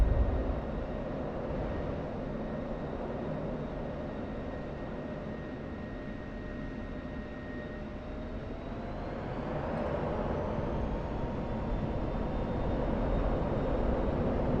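F-16C jet engine in the DCS World flight game, a steady roaring whine that holds, then rises in pitch and grows slightly louder partway through.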